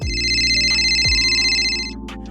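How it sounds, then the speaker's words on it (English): A smartphone ringtone plays a bright, repeating electronic melody, close and fairly loud, with two ring cycles before it stops. "The ringing of her sophisticated smartphone"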